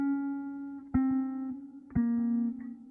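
An Aeroband guitar pad plays a sustained tone pitched down an octave, holding one steady low note. Brief plucked accents strike about once a second. The sound is close and fairly quiet, with no voices.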